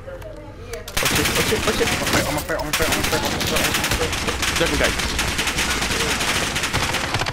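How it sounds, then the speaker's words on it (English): Sustained light machine gun fire in Call of Duty: Warzone, dense rapid bursts starting abruptly and continuing loud and close, with a brief spoken word from a player at the start. "This guy was using a fucking LMG"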